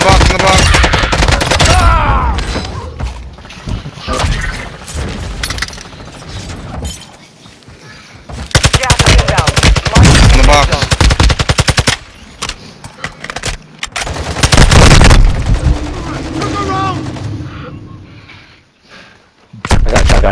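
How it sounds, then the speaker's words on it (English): Rapid bursts of automatic gunfire and sharp shots crackle through a tactical shooter firefight, loud and near, interleaved with pauses, while players shout over the action. "Taking effective fire!"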